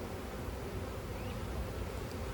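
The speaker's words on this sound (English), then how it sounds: "Look at all the bees. All those honeybees." A honeybee swarm buzzes as a dense, continuous hum of many bees close by, steady and moderately quiet, with no talking.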